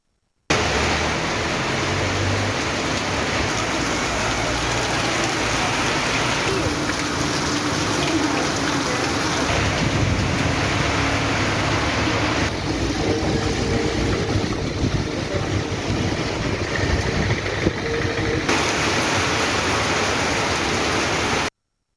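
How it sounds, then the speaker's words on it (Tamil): Heavy rain pouring during a storm in Tindivanam, Tamil Nadu, a dense, loud and steady roar of rainfall that fills the whole stretch, with no distinct thunderclaps standing out. "இடியுடன் கூடிய கனமழை பெய்தது"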